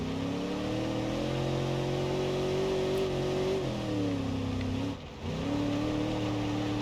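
A Grand Marshal police-package car in BeamNG.Drive with a steady, loud, droning engine that rises in pitch under revving, dips briefly as the gear shifts, then climbs again and holds its note.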